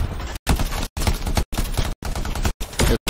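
Turret gunfire in the video game Anthem: loud, dense bursts of rapid fire broken by several short silent gaps, steady and close throughout.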